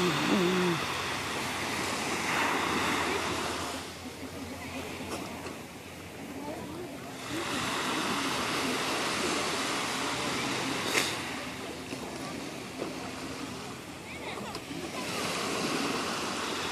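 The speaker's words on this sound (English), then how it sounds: "enjoy the sound of Hanalei Bay here on Kauai" Steady ocean surf washes onto the beach at Hanalei Bay on Kauai, a continuous broad rush with gentle swells and ebbs, heard up close with no talking.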